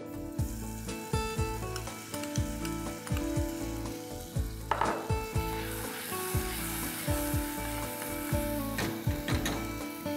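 Ground coconut masala with onion, mixed spice and coriander powder sizzles steadily in hot oil, with repeated scraping and clattering of a spoon against the pan throughout.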